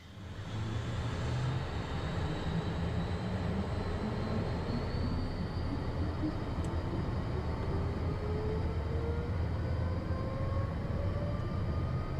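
Private jet engines spool up for takeoff in a steady, loud cabin roar with rising whining tones climbing over the constant rumble.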